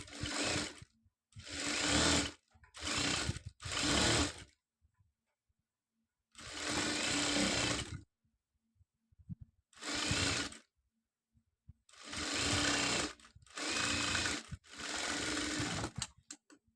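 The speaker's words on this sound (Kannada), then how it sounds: "ಇನ್ನು ಪೂರ್ತಿ ರೌಂಡು ರೌಂಡಾಗಿ ಇನ್ನೊಂದು ಸ್ಟಿಚ್ ಹಾಕೊಂಡ್ಬಿಡ್ತೀನಿ" Sewing machine stitching a school uniform in repeated bursts, about nine loud, close runs of rapid motor whirring and needle clatter separated by short silent pauses.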